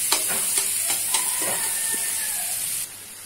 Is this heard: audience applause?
no